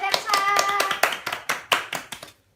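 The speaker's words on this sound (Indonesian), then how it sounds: "Tepuk tangan buat Elsa." A primary school class claps for a student, a brief ragged round of hand claps with a voice at the start, tapering into a few separate claps before stopping.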